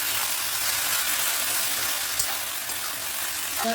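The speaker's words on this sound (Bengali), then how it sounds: "এবার দেবো আবার আর রসুনের পেস্ট। ভালো করে কষিয়ে নেব।" Garlic paste frying in a pan for chilli paneer, a steady close-up sizzling hiss that holds evenly throughout, with no talking.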